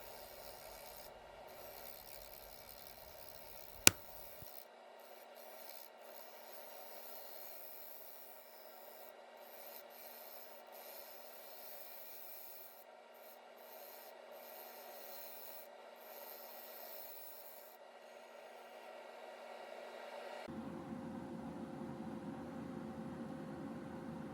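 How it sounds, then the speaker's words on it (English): A bowl gouge cuts an ambrosia maple blank spinning on a wood lathe, a faint steady rasping hiss that runs on continuously, with one sharp click early on and a rougher, louder cut near the end. "with the bowl gouge, taking just a little bit off"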